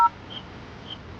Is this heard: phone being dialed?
yes